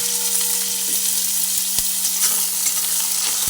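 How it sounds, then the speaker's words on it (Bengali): Tomato goes into onion and garlic frying in oil, producing a loud steady sizzle with a few sharp spatula knocks against the pan and a faint background hum, with no voices. "পেঁয়াজ আর রসুন অল্প সময় ভাজা হওয়ার পরে আমি এর মধ্যে টমেটোটা দিয়ে দিলাম"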